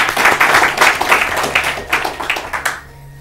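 A studio audience of a quiz show in Urdu claps for a correct answer, a short burst of fairly loud, close applause that fades out after about three seconds.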